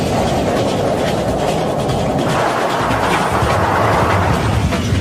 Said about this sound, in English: When a train enters an underground platform, it pushes a rush of air ahead of it.